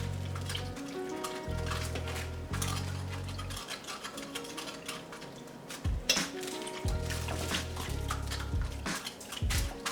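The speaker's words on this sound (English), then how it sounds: "you're just gonna mix everything around and stir it" Ingredients and water being mixed in a crock pot, with wet stirring, swishing and dripping sounds alongside low rhythmic thumps, continuous and close.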